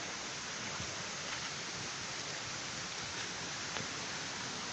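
A tourist waterfall in Sakon Nakhon, Thailand, rushes in a dense, continuous roar of falling water, loud and steady from start to finish with no voices.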